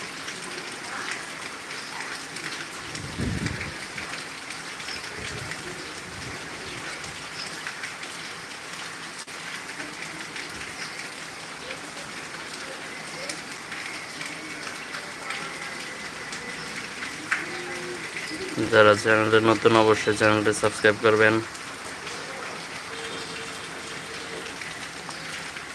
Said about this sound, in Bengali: ভাই প্রচুর বৃষ্টি